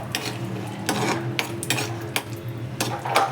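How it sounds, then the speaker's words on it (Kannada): Cashews and almonds roasting in a pan, with a steady metallic scrape and clatter of a spoon stirring them against the pan, repeated strokes coming every half second or so over a low background hum. "ಗೋಡಂಬಿ ಬಾದಾಮಿ ರೋಸ್ಟ್ ಆಗ್ತಾ ಇದೆ"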